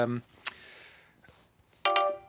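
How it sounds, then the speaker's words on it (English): A mobile phone sounds a low-battery alert inside a narrowboat sitting room, a couple of short tonal beeps that are close and clear, with brief quiet gaps between them. "Oh, phone's running out of battery."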